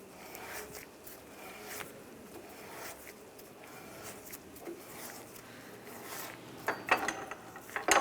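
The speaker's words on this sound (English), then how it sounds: "Now we can lower the screw jack." A screw jack being lowered beneath a 2011-2018 Ram 1500 during rear upper control arm work gives off quiet, uneven mechanical ratcheting and clicking, with a few sharper metallic clicks near the end.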